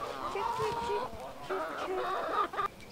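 Chickens cluck and squawk close by in a short burst of overlapping calls, fairly loud against a low rumbling background.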